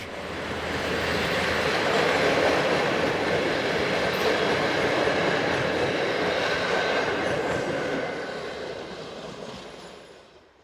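Electric train ET22-1020 pulls into Ostrów station with a passenger service, its loud, steady rolling rumble and rail noise building, holding and then fading as it comes to a stop.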